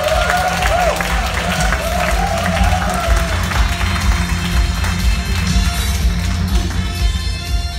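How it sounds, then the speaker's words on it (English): An audience at a formal launch event gives sustained applause, many hands clapping densely and fairly loudly, with a brief voice or tone heard early on. "A round of applause for the MBM 95 Batch Representative"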